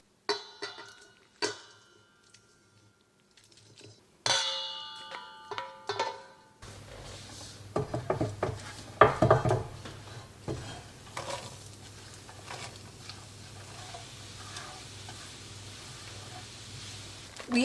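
Pans and utensils handled while sausage is lifted out of a pan: sharp metallic clinks and taps, then a steady frying sizzle with scraping and clattering underneath.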